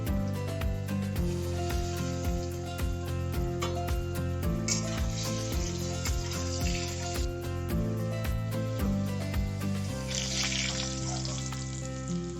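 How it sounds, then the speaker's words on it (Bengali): Potato pieces frying in hot oil with turmeric and salt for a Bengali mutton curry, giving a steady, close sizzle with occasional stirring and spattering throughout. "পরিমাণ মতো হলুদ ও নুন দিয়ে আলুগুলোকে হালকা লাল করে ভেজে তুলে নেব।"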